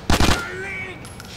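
A burst of rapid gunfire from a weapon in Grand Theft Auto 4: The Ballad of Gay Tony, loud and close, followed by a ringing tail and a brief metallic click.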